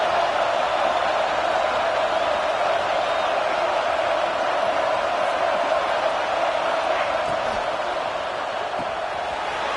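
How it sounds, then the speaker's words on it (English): A stadium crowd at a football game roars at full volume in a steady, unbroken wall of noise. "This crowd, full throat, spreading the eardrums and letting them know it's going to be a long day."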